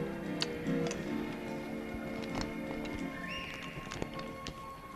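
Horse hooves clip-clop faintly around a show ring, the horses circling largely on their own with riders guiding, a steady light tapping rhythm at a distance with no talk.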